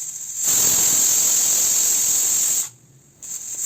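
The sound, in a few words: pressure cooker whistling and releasing steam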